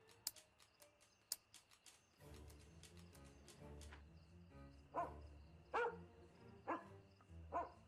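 Toby the tracking dog gives a few sharp barks, spaced apart and moderately close, over a low rumbling background, with faint clicks and taps before the barking begins.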